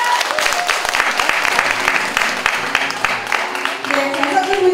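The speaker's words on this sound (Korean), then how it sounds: "다시 한번 큰 박수 부탁드리겠습니다" Audience applause at a festival opening ceremony: a dense, loud burst of clapping from a crowd, sustained for several seconds with irregular sharp claps throughout, while a voice speaks faintly.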